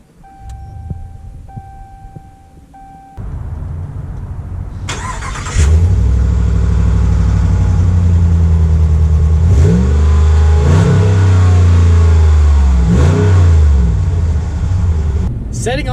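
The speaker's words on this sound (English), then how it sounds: "let's take the 2019 North Edition out to see how it drives." 2019 Ram 1500 Big Horn North Edition pickup truck setting off and driving, heard from inside: quiet tones and a muffled start, then a loud engine note that climbs repeatedly through several revving pulls.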